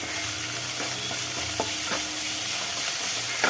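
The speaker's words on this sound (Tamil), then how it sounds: "இப்போ இதையும் சேர்த்து வதக்கிக்கலாம்." Chilies and coriander sizzle steadily in a hot pan, with a few scrapes and stirs of a utensil cutting through the constant frying hiss.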